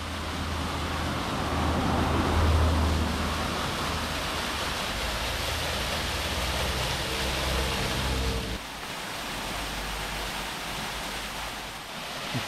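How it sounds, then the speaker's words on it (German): A waterfall cascades in the Hennerbach valley on the Rheinsteig trail, fed by an old mill stream. Dense, steady rushing water fills the scene from nearby, easing slightly toward the end. "Ein Wasserfall."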